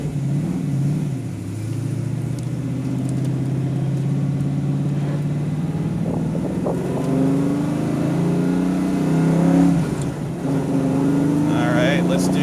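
The 354 stroker V8 in a 1993 Ford Mustang with Rodix heads and a built transmission revs loudly and climbs in pitch under acceleration, with a voice talking over the engine.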